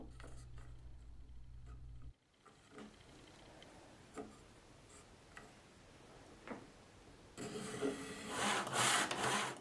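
Hand saw cuts wooden picture frame molding at a 45-degree miter, quiet rhythmic rasping strokes close by, ending in a louder, brighter burst of sawing.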